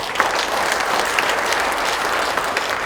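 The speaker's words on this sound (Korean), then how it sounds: "여러분들이 격려 박수 좀 부탁드리겠습니다" A hall full of people at a Jeju social welfare convention applauds in encouragement of social workers, a thick, even roar of clapping that holds steady throughout.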